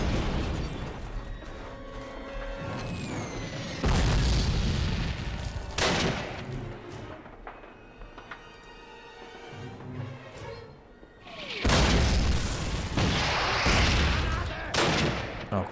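Tanks are blown up in the Call of Duty railyard mission, loud booming blasts and bursts of gunfire arriving in heavy clusters separated by quieter stretches.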